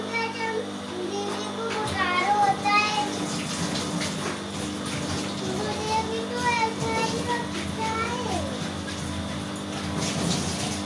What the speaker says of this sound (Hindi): मैं यहाँ पे पानी भर रही हूँ सुबह सुबह।